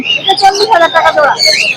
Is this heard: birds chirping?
yes